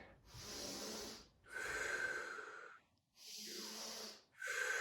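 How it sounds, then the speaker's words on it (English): A person takes deep, audible breaths during a chest-opening shoulder exercise, with three long breath sounds separated by short pauses, close and fairly loud. "I like to breathe in with the chest opening."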